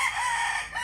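A chicken with a cold and congested breathing gives a short, raspy call, close by, with a steady hiss of background noise behind it.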